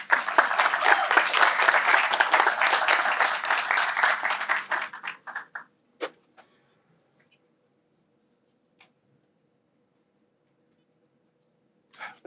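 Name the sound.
audience applause welcoming a speaker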